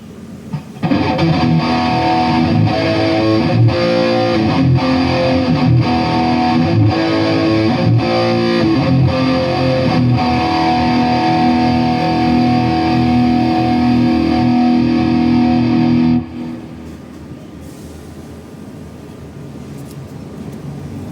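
A heavily distorted metalcore electric guitar patch, played through a Boss GT-1 processor into a Boss Katana-50 MkII amp, chugs in loud rhythmic palm-muted riffs with delay, then cuts off to a fading tail and amp hiss.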